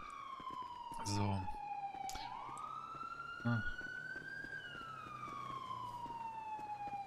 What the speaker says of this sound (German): Mach am besten mal deine Sirene aus.